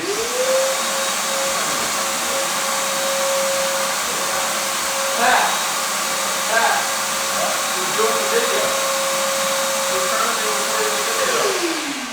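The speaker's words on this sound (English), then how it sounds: "So we're gonna vacuum kind of as we go." A vacuum cleaner runs steadily with a loud continuous whine while cleaning a dirty garage floor during a garage conversion. The motor spins up at the start and winds down at the end, with faint scraping in between.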